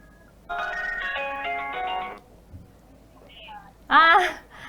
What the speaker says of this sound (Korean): 바로 전화 연결을 한번 해보도록 하겠습니다